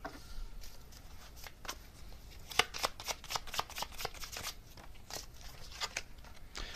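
Tarot cards are shuffled close up, a quiet run of soft riffles and sharp flicks and snaps, busier in the middle, with no talking.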